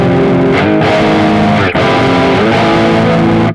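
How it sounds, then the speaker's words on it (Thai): Sustained electric guitar chords through an amp with built-in distortion and no effects pedal ring out loud and gritty, with a brief break midway before fading at the end. "เป็นแอมเสียงแตกอยู่แล้วถ้าบอกว่าเราไม่เพิ่มโอเวอร์ไดมันก็โอเวอร์ไดเหมือนเป็นการบูสต์เสียงเพิ่มข"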